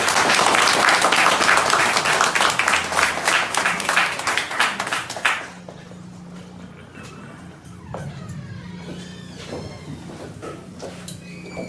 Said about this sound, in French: On applaudit une fois de plus, mesdames et messieurs.